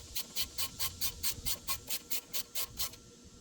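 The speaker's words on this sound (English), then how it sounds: "grab your 10mm socket and snug it down" Rapid, even clicks from a 10mm socket ratchet snugging down a bolt during a passenger-side IWE replacement on a Ford F150 or Expedition, about a dozen sharp ticks in steady rhythm, close and fairly quiet, with no talking.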